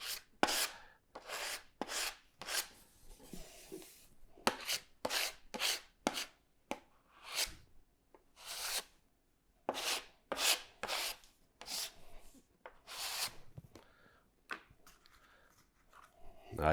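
A blade scrapes filler off a cabinet panel in a string of short, crisp, close strokes, with irregular pauses between bursts and no voices.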